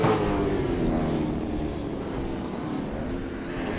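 A Supercars racing car engine roars steadily through a sim race at Bathurst, a dense, continuous drone that holds at an even, loud level from start to finish without speech.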